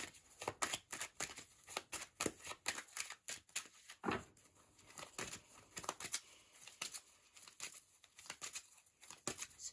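A deck of tarot cards being shuffled by hand, a quick run of crisp riffling flicks and slaps close up, in uneven bursts with brief pauses between, no talking over it.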